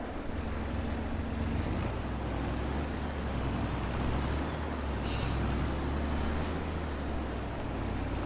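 A used tractor drives onto a field past bushes, its engine a loud, steady, continuous rumble with broadband noise throughout.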